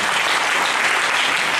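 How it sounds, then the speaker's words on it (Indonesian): Sustained applause from a seminar audience at a Christian faith gathering in Duri, Riau, dense steady clapping filling the room with no talk over it. "Berikan lagi tepuk tangan bagi Tuhan Yesus"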